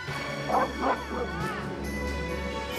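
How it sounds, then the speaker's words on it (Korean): Pet dog yipping and whimpering inside a car, two or three short high barks close by over a low engine hum. "차를 타면 짖는 반려견의 문제 행동"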